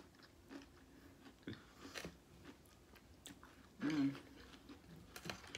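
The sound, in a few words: chewing shrimp salad during a mukbang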